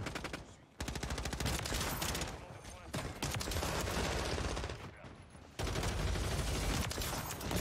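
Rapid bursts of longbow gunfire in a video game, loud and dense, with short pauses between volleys.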